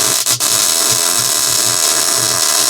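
Tack welding a quick hitch plate onto a box blade, a steady harsh crackle running close and loud throughout with a brief sharper burst near the start.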